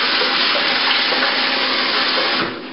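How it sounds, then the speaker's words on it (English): Hot tap water pouring onto a person's hair while shaving the head, a loud steady splashing rush that continues throughout and softens just before the end, with no talking. "So I'm just gonna put some hot water here onto my hair."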